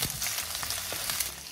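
Chayote stir-frying in hot cooking oil in a pan, a continuous close sizzle with faint stirring scrapes and no voices.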